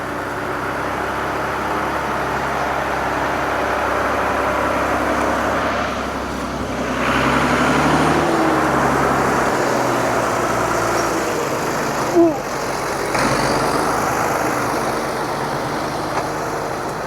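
A tractor engine drones steadily while it slips and crabs sideways hauling firewood logs during timber skidding, a continuous loud rumble with a brief surge midway and a short knock near the end, no talk.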